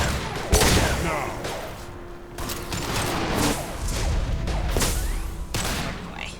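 Dense gunfire from a Mass Effect 2 sci-fi shooter battle, with rapid overlapping shots and bursts running continuously and loud, marked by a few sharp heavier cracks.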